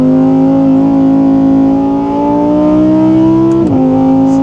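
A 2023 Audi R8 GT engine revs loud and close, its tone climbing smoothly to 9,000 RPM before a sudden drop near the end.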